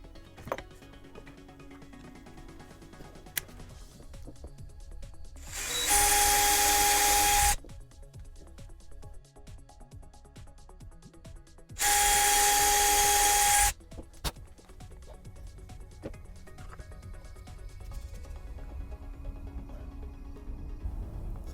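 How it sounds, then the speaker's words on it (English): Two loud bursts of a power drill boring holes while building a Boba Fett jet pack prop, each lasting a couple of seconds, with quieter workshop handling noises and clatter between them. "let's go ahead and drill these holes"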